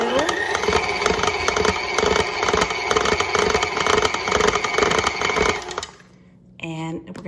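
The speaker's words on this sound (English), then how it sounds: "give it another turn with the mixer on" An electric stand mixer churns cookie dough for Christmas cookies in a steady, loud whirring drone that runs continuously, then cuts off near the end before a brief voice is heard.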